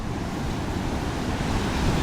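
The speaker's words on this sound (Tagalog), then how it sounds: "ayun yung dagat na malakas ang alon ngayon" Strong sea waves surging onto the shore at a beach resort, a continuous loud roar of surf with a wind-buffeted rumble, steady and close, with no talking.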